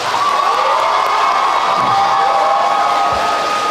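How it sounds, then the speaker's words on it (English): A crowd at a high school JROTC awards ceremony gives a loud, sustained round of applause mixed with cheering and whoops, filling the whole stretch without pause. "please join me in a big round of applause for all of them real quick"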